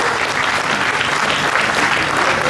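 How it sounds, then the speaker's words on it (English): Steady, dense applause from an audience at a stage hypnosis show at a state fair, close and loud with no gaps and no talking. "Give them all a big round of applause."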